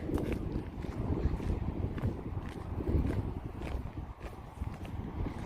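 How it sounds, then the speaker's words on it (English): Outdoor wind at a horse training yard, a steady low rumble and buffeting against the microphone that runs throughout, with faint scattered knocks and movement underneath. "Wind died down a little."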